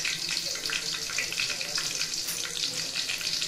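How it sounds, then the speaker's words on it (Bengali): A bay leaf and panch phoron fry in hot oil with a continuous, close, even sizzle, a dense hiss that holds steady with no talk over it. "এখন এগুলোকে একটু নেড়ে চেড়ে ভেজে নেবে একটা সুগন্ধ বের হওয়া পর্যন্ত।"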